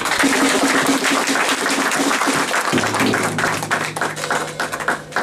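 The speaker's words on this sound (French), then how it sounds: "Est-ce qu'on peut acclamer très fort?" A church congregation applauds and cheers for the preacher, a dense, loud wash of clapping and crowd noise sustained throughout with a steady hum underneath.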